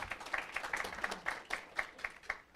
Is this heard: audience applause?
yes